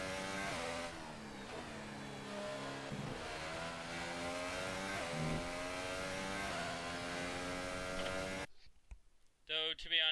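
A Formula 1 car engine in a racing video game, on the Spain circuit, whines and revs continuously at high pitch, shifting through gears, then cuts out abruptly near the end leaving brief quieter sounds.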